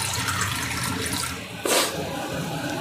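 Water from soaked rice being poured off, a brief splashy gush of liquid rising suddenly near the end after a low background hiss, close and fairly loud.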